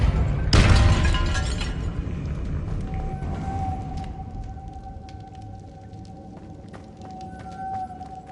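A Depulso spell impact in Hogwarts Legacy lands as a sudden loud boom with a brief crackling burst, then fades into a low rumbling tail and quiet ambient game sound.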